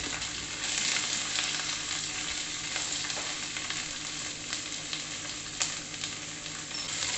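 Ginger, garlic and onion sauté in a pan for a Kerala-style Christmas beef dish, giving a steady, dense sizzle throughout with occasional faint scrapes and clicks, close and continuous with no talking.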